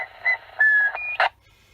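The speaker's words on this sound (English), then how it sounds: "Just someone whistling down the microphone." Short whistled tones and a rising whistle from a person whistling into the microphone come through a CRT One multiband CB radio, with brief bursts of static between them.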